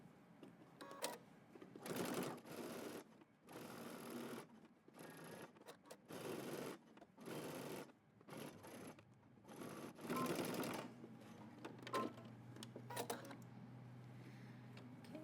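A home sewing machine stitches the top of a jacket collar in short bursts separated by pauses, each run a quick mechanical whir of rapid needle strokes, close and clear with no talking.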